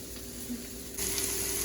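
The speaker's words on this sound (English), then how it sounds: "So we've added our onion and garlic to the pot here." Onion and garlic sizzling in a pot for a harissa brunch hash, a steady close frying hiss that grows brighter and louder partway through as they are stirred, with no talking.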